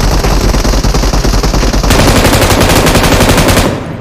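Machine-gun fire in PUBG Mobile: a loud, close, unbroken stream of rapid automatic shots that runs for several seconds before cutting off and fading.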